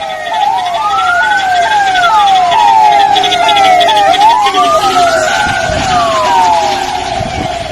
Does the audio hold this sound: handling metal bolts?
no